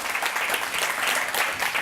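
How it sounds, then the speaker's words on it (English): An audience at a Montreal forum applauds two speakers, a brief, full and continuous burst of many hands clapping together at a steady level. "Please, a round of applause for Bree and Haley Hollinsworth."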